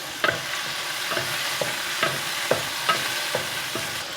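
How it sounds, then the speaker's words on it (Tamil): Chillies and spices sautéing in coconut oil in a pan, giving a soft, steady sizzle with repeated light scraping stir strokes at a regular pace, close and with no talking. "தேங்காய் எண்ணெயில் நல்லா வதங்கட்டு"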